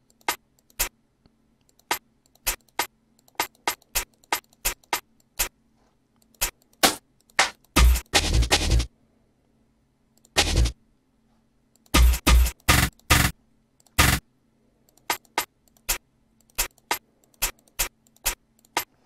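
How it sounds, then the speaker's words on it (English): Programmed hi-hats in beat-making software tick in sparse, uneven bursts, with a few dense rapid rolls breaking in between, crisp and close with no voices. "I like to start with my hi-hats just to do my little rolls"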